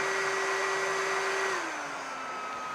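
A 1800W variable-temperature electric heat gun for crafting runs with a steady whining blower hum, then drops audibly to a lower speed setting and keeps droning evenly at that lower pitch.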